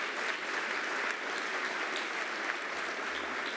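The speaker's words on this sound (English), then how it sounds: "Give her a round of applause, please." An audience at a housing conference gives a round of applause for the HPD Commissioner, steady dense clapping from a room full of people, moderately loud and even throughout.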